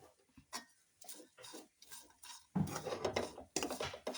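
A spoon scrapes and clatters in a pan while beef pickle (achar) mixture is stirred, with uneven clinks and scrapes that grow louder and busier partway through, heard alone and up close.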